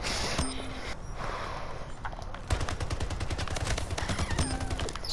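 A Splitgate gun firing in a fast automatic stream, the shots dense and evenly spaced and loud up close, starting after a brief quieter stretch of scattered game sounds and continuing nearly to the end.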